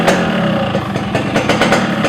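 A Yamaha RX King two-stroke motorcycle engine runs at idle, a loud, close, rapid burbling putter with rhythmic pulses and slight surges.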